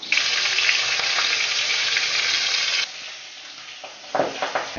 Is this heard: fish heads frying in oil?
yes